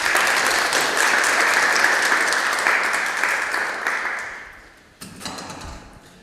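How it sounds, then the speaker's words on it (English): Applause from the audience at the close of a panel event on government transparency, a dense, loud wash of clapping that holds steady, fades out after about four seconds, then briefly picks up again. "Can we give them a round of applause?"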